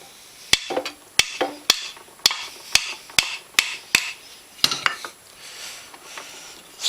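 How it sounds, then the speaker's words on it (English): A series of sharp metallic hammer taps on stuck gears in a Suzuki RM85 engine, about a dozen evenly spaced strikes with brief ringing, close by and fairly loud, slowing slightly toward the end. "Let me tap this with the hammer."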